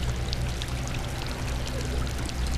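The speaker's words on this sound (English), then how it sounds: "To sit here and get sprayed in the face with this water." Water rushing and spraying continuously at a baseball ballpark, a dense, steady hiss with no breaks, fairly loud and close, no voices.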